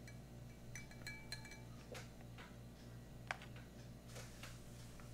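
Metal pate knife stirring a Russian EMERCOM civil defense ration in its tin, giving scattered light clinks and scrapes over a steady low hum, fairly quiet and close.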